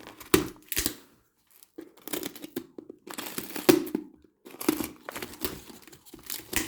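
Packing tape is ripped and peeled off a heavily wrapped box in repeated loud bursts, crinkling and tearing close by, with short pauses between pulls.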